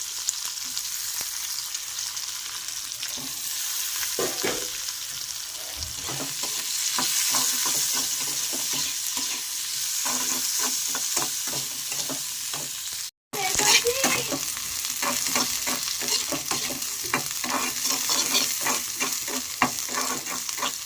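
Garlic and onion with dried and green chillies, lightly frying in a pan: a long, steady sizzle with rhythmic ladle scrapes throughout, a momentary drop to silence partway, then resuming.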